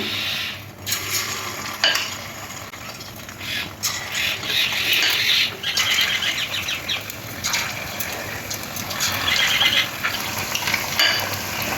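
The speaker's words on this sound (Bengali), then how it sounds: "এবার গরম তেলের মধ্যে চিকেনের টুকরোগুলো দিয়ে হালকা করে ভাজবো, বেশি কড়া করে ভাজবো না।" Chicken pieces dropped into hot oil in a wok for chicken Manchurian, a loud, dense bubbling sizzle that swells and dips, with occasional metal clinks of a utensil against the wok and no voices.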